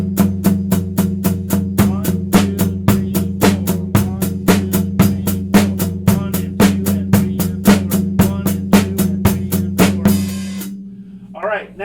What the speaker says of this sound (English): then add the bass and snare, which are bass on 1 and 3, snare drum on 2 and 4.